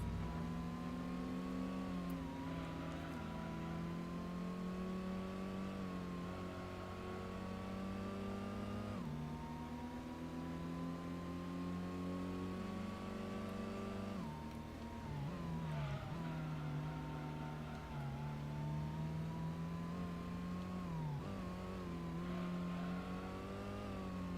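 Dodge Viper engine in the Gran Turismo racing game, revving and climbing through gears in long rising sweeps, dropping sharply at shifts and braking points, steady and fairly prominent with no talk.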